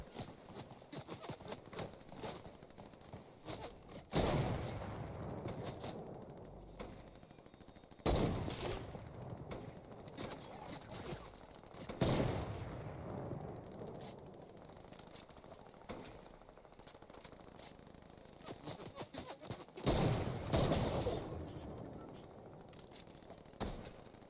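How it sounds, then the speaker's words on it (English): Bursts of game gunfire in Fortnite crack past at close range, arriving in several loud clusters spaced a few seconds apart, with quieter rattling shots between them. "there's some bullets that are flying very, very close"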